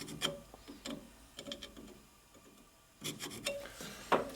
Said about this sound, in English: I'm also going to do a little more filing because I can see it's tight right on that one spot